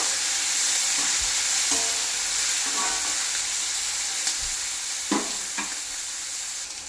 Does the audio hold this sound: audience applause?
no